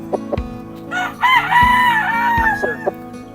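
A gamecock on a gamefowl farm crows loud and close in one long, wavering cock-a-doodle-doo, surrounded by clucks and other fowl noises.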